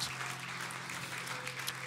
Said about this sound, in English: Would you give him a wonderful clap of praise as you find your way back to your seat tonight?